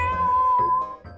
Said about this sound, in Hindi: हाँ, मेरी बिल्ली।